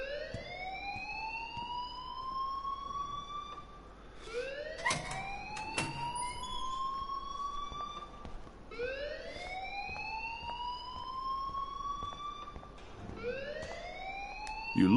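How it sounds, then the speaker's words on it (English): Repeating alarm siren in the video game Life is Strange, rising wail sweeping upward in cycles roughly every four seconds, loud and steady throughout with no talk. "please turn off that alarm since that's your job"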